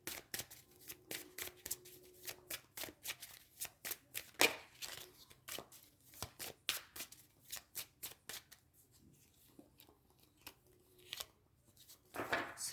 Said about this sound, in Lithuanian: gerai, paimsiu dar vieną kortą